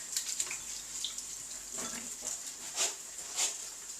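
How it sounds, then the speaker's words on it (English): Tap water runs softly at a sink while hands are washed, with quiet splashes and faint rubbing and clinking over a steady hiss; no one speaks. "I'm going to quickly wash my hands."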